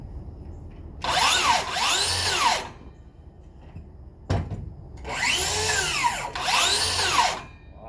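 A DeWalt DCS577 cordless circular saw spins up twice, each run a loud whining surge with pulsing tone lasting about a second and a half, separated by a sharp clunk and quieter gaps.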